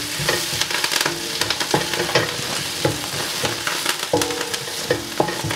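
Chopped onions and curry leaves sizzling in hot oil in a pan for fish curry, with steady frying hiss broken by repeated scraping stirs, close up and with no talking.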